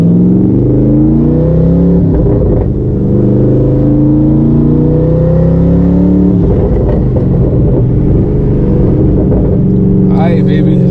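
A twin-turbo Boss 302 Mustang accelerates hard on a highway, its engine note sweeping upward through successive gears with clear shift breaks, loud and close from inside the car.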